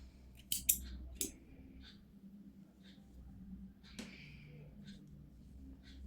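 Scissors snip crochet thread on a doily a few times, making crisp, close little clicks over a quiet room hum with faint background noise and no talking.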